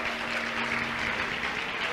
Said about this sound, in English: Give the Lord another hand clap of praise tonight.